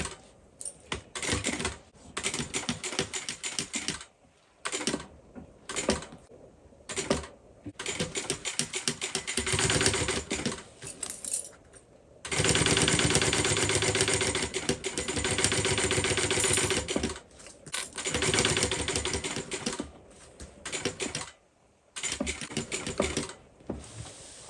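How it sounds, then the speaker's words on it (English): A sewing machine stitching the curved seam of a fabric tote bag, running in rapid mechanical bursts of varying length separated by short pauses, with one long sustained run in the middle, close and clear with no speech. "we're just sewing the curve at this stage"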